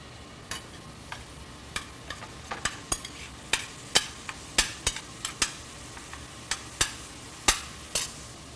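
Ground lamb and finely cut shallots stirred and broken up in a hot frying pan, with a steady sizzle under repeated sharp scrapes of a spoon or spatula against the pan, no voices.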